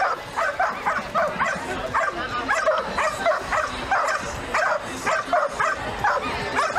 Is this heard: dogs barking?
yes